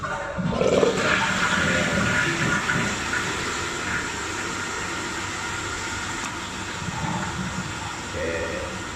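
A toilet cistern flushes after a leak repair, a steady close rushing roar of water that lasts the whole stretch with little change in level.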